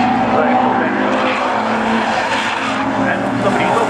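Race cars, Ford Pumas, lapping at Brands Hatch circuit in a BARC event: loud continuous engine roar with some tire squeal, close, under a commentator talking.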